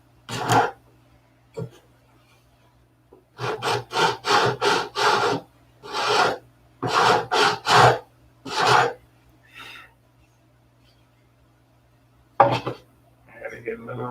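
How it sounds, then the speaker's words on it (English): Sandpaper wrapped around a brass tube rubs back and forth in quick rhythmic strokes, close and distinct, with short pauses between runs of strokes. "This is my brass tube with sandpaper on it."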